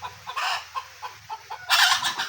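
Chicken clucking in a remote village yard, several short repeated clucks close by, with a louder burst of rustling and flapping near the end; no talk.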